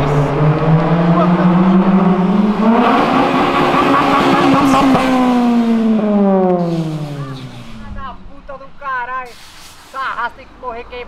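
A Mitsubishi 3000GT sports car engine revving hard at a JDM car meet, its pitch climbing and then falling away over several seconds. Voices of people talking follow as the engine note fades.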